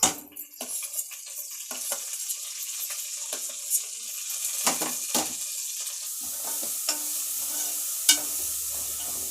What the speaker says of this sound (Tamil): இஞ்சி பூண்டு அரைச்சது போடலாம்